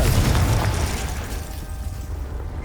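Blasting spell explosion in Hogwarts Legacy: a loud, heavy boom at the start with deep low rumble, decaying over a couple of seconds into a fading roar.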